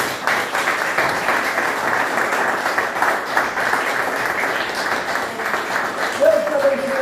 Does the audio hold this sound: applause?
yes